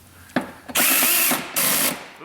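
A power drill buzzes out seat bolts inside a Ford Taurus sedan, two loud whirring bursts close up, each about a second long, separated by a brief pause.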